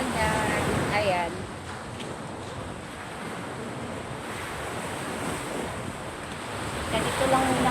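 Sea waves wash steadily onto a beach in a broad, continuous hiss and roar, with wind buffeting the microphone and brief voices heard near the start and end.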